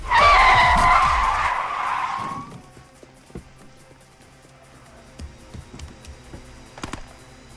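Tires skid and squeal loudly in a rough road chase between cars in a crime thriller film, a long screeching slide that fades into quieter background with scattered small knocks.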